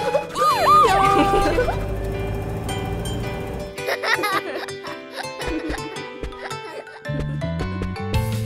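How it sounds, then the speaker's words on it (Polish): Siren of a fire engine in a children's song, a rising and falling wail near the start against a musical backing that continues alone after the siren fades. "Strażacki jedzie tu, jaki słychać dźwięk. To syreny dźwięk."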